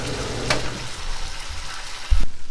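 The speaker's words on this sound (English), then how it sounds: "you can still hear them sizzling away in that pan" Cucumbers sizzle in a frying pan with the heat off, steady frying crackle filling the clip, with a brief bright scrape early on and a louder clatter near the end.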